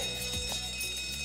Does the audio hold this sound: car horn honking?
no